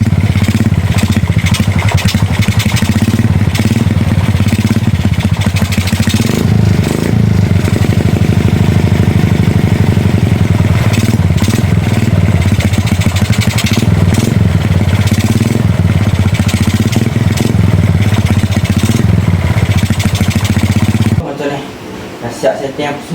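A new motorcycle engine runs steadily at a loud, close idle with a low, continuous rumble that holds for about twenty seconds before cutting off near the end.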